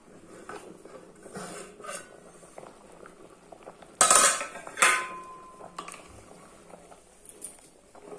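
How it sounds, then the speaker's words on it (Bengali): A lid lifted off a pot of simmering khichuri with a sharp metallic clatter midway through, followed by a second clink, over a faint bubbling and pattering of cooking rice and lentils. "এবার আমি ঢাকনাটা উঠিয়ে নেব।"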